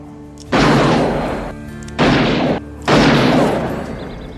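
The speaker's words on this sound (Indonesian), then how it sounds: "ia mengambil senapan dan berhasil meledakkan kaleng itu dengan 1 tembakan" Three loud, sharp rifle shots, each followed by a ringing decay, spaced about a second apart with quiet gaps between; a shot hits and blows apart a can.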